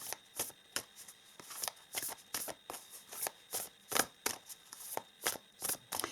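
Oracle cards are shuffled by hand in a quiet room, a rapid series of crisp papery riffles and slaps in uneven bursts, close and clear with no talking.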